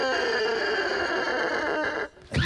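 A voice imitates a door creaking open: one long, raspy, strained creak held for about two seconds, loud and close, then cut off abruptly.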